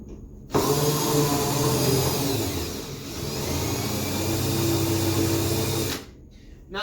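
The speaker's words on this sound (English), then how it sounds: "if you look really close when you're drilling" A power drill whirs loudly and steadily for several seconds while drilling out a fused quarter, its pitch dipping briefly under load before it stops abruptly.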